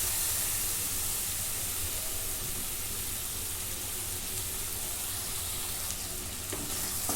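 Chicken sautéing in a pan for a Maharashtrian aalni and rassa curry, giving a steady, close sizzle with soft stirring scrapes throughout, no talk over it.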